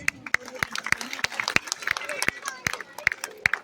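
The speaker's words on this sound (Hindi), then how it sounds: "आप लोग ताली तो बजाइए प्लीज" Scattered, uneven hand claps ring out from an audience at a mushaira held during a school annual function, sharp and fairly close over a steady murmur of crowd chatter.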